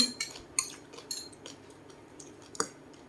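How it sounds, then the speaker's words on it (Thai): A spoon scraping and scooping Thai shrimp paste chili dip (nam phrik kapi) from a dish, making a few light, close clinks and taps spread across a quiet moment. "ตักน้ำพริก"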